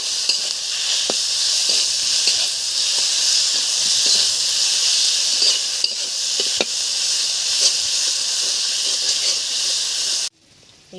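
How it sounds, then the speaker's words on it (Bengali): Small puti fish fry in hot oil with chili, turmeric and salt, giving a loud, continuous sizzling hiss with scattered pops and spatters before an abrupt cutoff. "সেই পুঁটি মাছগুলো আজ ভাজা হবে।"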